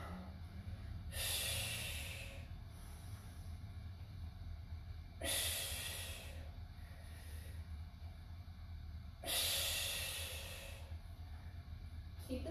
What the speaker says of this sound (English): Exhale on the way up.